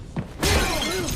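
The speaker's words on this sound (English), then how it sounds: "Head injury into glass, it broke pretty easy" Glass display case shattering as a head is driven into it during a John Wick fight scene: a single sudden bright crash after a brief thud, with ringing shards trailing off.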